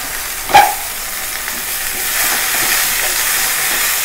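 Vegetables (carrot, green chilli and tomato pieces) frying in a pan for sambar, a steady broadband sizzle with a brief clatter near the start, close and moderately loud with no talk.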